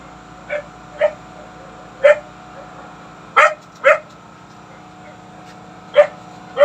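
A dog barks outside near a house and carport, about eight sharp separate barks spaced irregularly at moderate distance over a low steady hum.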